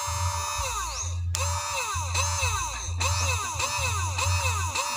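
Mini submersible bilge pump running on a 12-volt DC motorcycle battery, a steady motor drone with low hum and repeating whiny, swooping tones cycling about twice a second, continuous and fairly close, with no talking.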